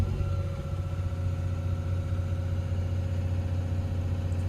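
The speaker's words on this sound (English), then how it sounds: "Turn auto idle off, rev it up." A machine's diesel engine runs steadily with auto idle switched off, its rev held raised and constant, a loud continuous low rumble with no talk over it.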